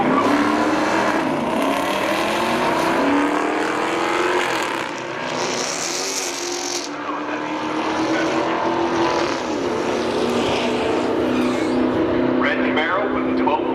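A red Camaro drag racing at 118 mph roars down the strip. The engine note climbs steadily in pitch under hard acceleration, loud and sustained, with a short dip midway and a voice talking faintly in the background.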